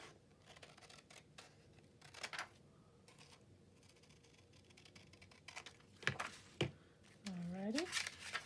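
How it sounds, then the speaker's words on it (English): Scissors snip through paper in a few short, crisp cuts close by, with a quiet voice speaking briefly near the end. "And we could probably just do our scissors on this one."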